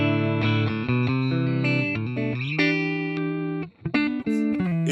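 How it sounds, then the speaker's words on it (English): Electric guitar played through a Joyo Preamp House pedal on its twin reverb setting, ringing clean sustained chords and single notes with a bright, shimmering tone, close and steady, briefly cutting out near the end before resuming. "It's a twin reverb basically setting"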